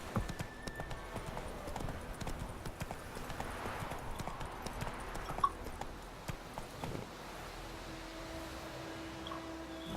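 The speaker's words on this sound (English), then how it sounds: "Run, Roach." Horse hooves clip-clop at a gallop in The Witcher 3, a quick steady rhythm of thuds under low ambient game noise, fading somewhat toward the end.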